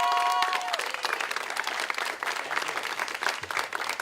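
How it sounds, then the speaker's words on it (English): An audience applauds at a city hall conference in St. Petersburg, Florida, with loud, dense clapping that continues steadily for the whole stretch, no voices standing out above it. "I want us to give another round of applause"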